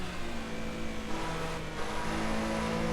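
A historic rear-engined Porsche 911 in the Assetto Corsa game drones steadily with shifting tones, like a sports car accelerating through gears, loud and continuous with no talking.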